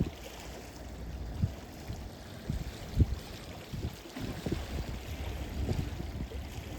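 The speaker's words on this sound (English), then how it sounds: "I do love hearing just the water" Water flowing through a gorge, a continuous rushing babble close by with occasional louder splashes and gurgles, heard alone without voices.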